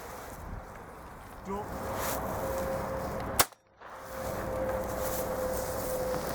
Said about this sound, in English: Oh, shot Stotty